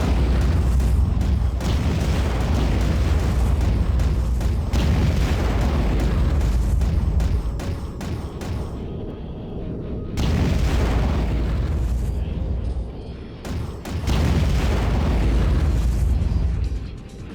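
Heavy explosions rumble through the underwater combat game Aquanox, loud and close, with long booming blasts that swell and fade in waves over a continuous deep roar, a brief lull, then another big burst.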